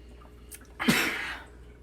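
A person sneezing into their arm, a single sudden muffled burst with a short breathy intake before it, close and moderately loud, fading quickly in a quiet room.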